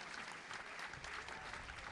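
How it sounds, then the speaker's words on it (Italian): Applause and cheering from the crowd at the final of a youth regional football tournament, a dense, steady wash of clapping that fills the whole stretch without a break. "L'applauso e l'urrà."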